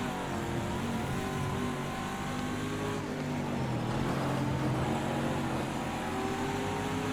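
A race car engine in the RoadCraft game at Laguna Seca drones steadily, then briefly eases off throttle before picking up again, a loud continuous hum with shifting engine tones.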